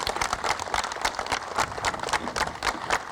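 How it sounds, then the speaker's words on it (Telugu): An audience at the close of an event program claps steadily, a dense, continuous wash of many hands applauding together throughout. "సో అందరూ ఒకసారి లాస్ట్ టైం గట్టిగా క్లాప్స్ కొట్టండి."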